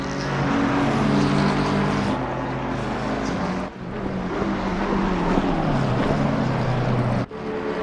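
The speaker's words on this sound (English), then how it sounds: "it looks like more cars are coming into the pits with 40 minutes left to go" Race cars enter the pits during the Spa 24 Hours endurance race with a continuous loud engine roar. Engine pitch shifts as cars pass near, with brief dips between them.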